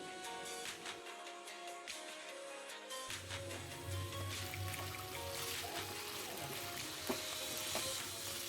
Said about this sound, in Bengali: আমি ঢাকা চাপা দিয়ে ভালোভাবে ভেজে নিচ্ছি, মাঝে মাঝে ঢাকা খুলে নাড়াচাড়া করে দিচ্ছি